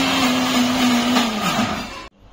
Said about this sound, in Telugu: శుభ్రంగా క్లీన్ చేసి పెట్టుకున్న పప్పుని ఇలా మిక్సీ వేసుకోవాలి